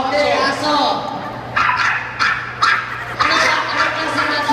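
A dog barks in several short, sharp yips for an animal-sound guessing game, the bursts spaced irregularly and heard close while people talk over them.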